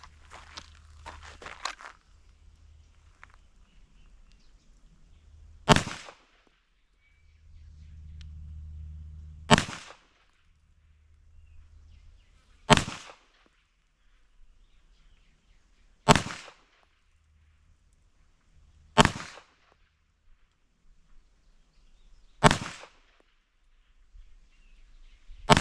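Single gunshots fired at a target ten yards away ring out as sharp, loud cracks about three seconds apart, seven in a row, with quiet handling sounds in the gaps between them.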